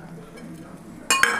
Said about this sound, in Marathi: एकदा मिक्स करून घेणार आहे.